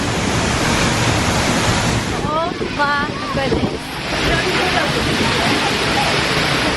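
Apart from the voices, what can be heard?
waterfall in Iceland, South Coast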